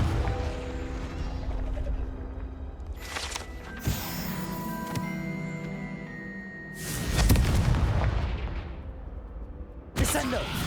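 The Confringo fire-blast spell in Hogwarts Legacy bursts out in a few loud, booming explosive whooshes, spaced several seconds apart amid game sound.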